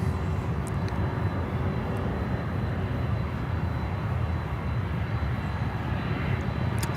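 Helicopter flying low near Miami airport, heard as a steady, loud rotor and engine rumble that holds constant throughout without talk.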